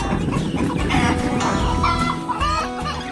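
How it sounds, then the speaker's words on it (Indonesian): Chickens cluck steadily while pecking at fresh corn at feeding time, a busy flock chorus with scattered higher calls over a dense, continuous background. "Ayam-ayam itu terlihat sangat lahap menikmati jagung segar."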